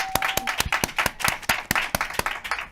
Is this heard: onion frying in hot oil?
no